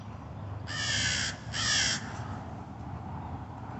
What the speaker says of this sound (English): I guess even the birds want to get in on the video, too.